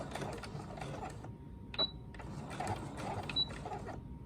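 A sewing machine stitches a zipper onto fabric, giving a quiet mechanical whir with short pauses, plus two brief high-pitched ticks or chirps partway through, close and alone.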